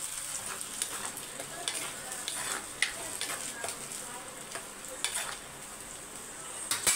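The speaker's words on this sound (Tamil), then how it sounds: "நல்லா வதக்கி எடுத்துக்கோங்க" Tomato paste sautéing in a pan for a lentil thuvaiyal gives off a steady, close sizzle. Scraping stir strokes cut through it at irregular moments, with no voices.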